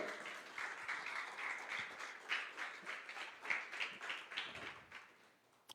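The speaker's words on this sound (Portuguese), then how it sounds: "Você pode aplaudir ao Senhor?" A church congregation applauding during a Portuguese-language sermon, a steady wash of many hands clapping at moderate distance that swells in places and fades toward the end.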